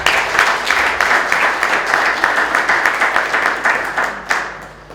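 Sustained applause from an audience at a book launch, many hands clapping steadily and fairly loud for several seconds, with a slight swell near the end and no talking over it.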